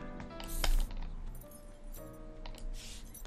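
Keys jangling in Untitled Goose Game, soft metallic chinks and rattles scattered over a few seconds beneath background game music and ambience, fairly quiet and close.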